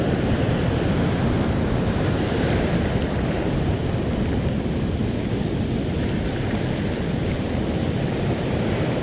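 Ocean surf crashes and roars continuously on an empty beach on a grey morning, heavy white water churning loud and close with wind noise buffeting the microphone throughout.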